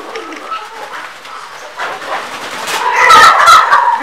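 Chicken calls at an ornamental bird farm, with Brahma and Ayam Cemani breeds kept there: a mix of clucks and cackles that stays moderately loud and grows busier and louder toward the end, over steady outdoor background noise.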